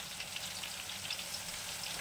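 Fish frying in a pan nearby gives a steady, dense sizzle and crackle, soft but continuous, with no voices.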